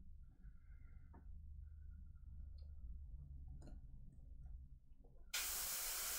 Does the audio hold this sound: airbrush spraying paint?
yes